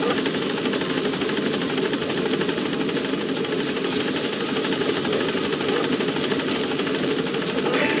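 A support helicopter in Metal Gear Solid V hovers close by at the landing zone, its rotor thumping steadily beneath a loud, constant engine whine that fills the whole stretch without letup.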